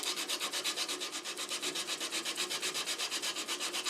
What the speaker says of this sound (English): get in there with some type of sanding stick, maybe, with some coarse grit to get rid of any sharp edges